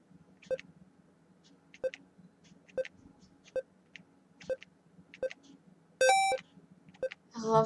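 Short electronic beeps from the Chrome dinosaur browser game repeat at an even pace, about one per second, followed by a brighter chirp and a burst of game sound at the end.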